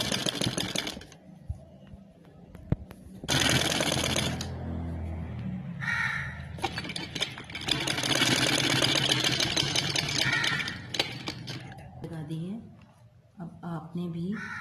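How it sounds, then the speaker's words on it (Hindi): A sewing machine stitches a sleeve in loud bursts of rapid, steady mechanical whirring, stopping and starting several times, with someone talking in the pauses between runs. "अब मैं ये वाली सिलाई लगा दूंगी इसके ऊपर"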